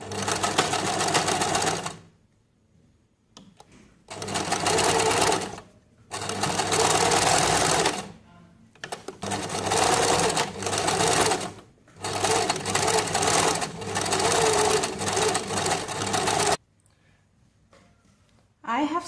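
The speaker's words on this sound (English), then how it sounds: "I'm just stitching from here till down and on the edges." A sewing machine stitches fabric along the edges of a kaftan in several long, loud runs of rapid mechanical whirring, separated by brief pauses, with no talking.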